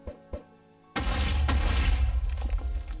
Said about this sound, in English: Something exploded.